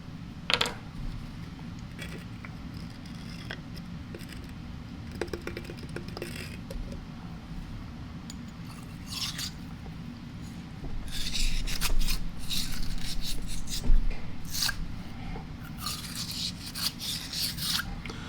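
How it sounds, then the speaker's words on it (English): A bore brush soaked in Hoppe's No. 9 solvent scrubs back and forth inside a gun barrel, giving a steady close rasping and rubbing that grows louder and busier toward the end, with scattered metallic clicks. "we're going to run a bore brush down the bore with Hoppy's 9 solvent on it"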